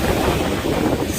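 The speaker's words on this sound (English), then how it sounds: "It's so windy, guys," Strong night wind at seaside Tsilivi on Zakynthos buffets the microphone in a loud, continuous low rumble with gusty flutter, briefly filling the whole moment without any voices.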